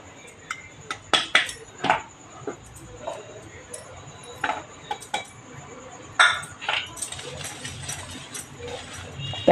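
Two flours are mixed in a bowl, heard as irregular scraping, clinks and taps of a utensil against the bowl, fairly close and loud, with pauses between bursts.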